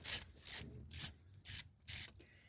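Five short, crisp ratcheting bursts come in a quick even rhythm as a 10 mm screw is loosened on a 2014 GMC Acadia, close and fairly quiet, with silence between strokes.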